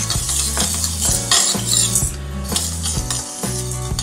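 Horse gram dry-roasts in a pan on medium flame, the hard seeds rattling and scraping as a spatula stirs them in steady repeated strokes, close and continuous over a low hum.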